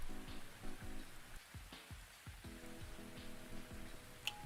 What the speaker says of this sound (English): I'm gonna leave you to the silence of the rain for a bit